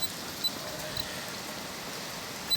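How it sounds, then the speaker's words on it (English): Steady rain falls in Dubai, a soft, even hiss of drops on surfaces throughout, fairly faint with no voices. "it's raining in Dubai"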